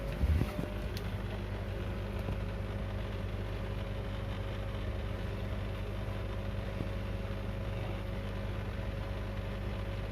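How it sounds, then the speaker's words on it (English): An aquarium canister filter runs with a steady, unbroken low hum and faint watery rush that stays even and continuous throughout, close by and without any voices. "Filter started."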